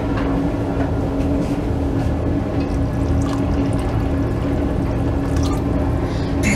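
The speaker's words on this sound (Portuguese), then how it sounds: "Eu vou colocar mais um pouco de água para que o macarrão, quando cozo, não fique muito empapado." Water pours into a pot of pasta being cooked for a beef macaronada, a continuous rushing splash heard close up with no talking.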